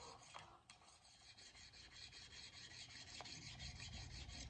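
A hoof knife is stroked back and forth on a diamond hone, giving a steady, faint rasping scrape with brief clicks, close up and with no voices.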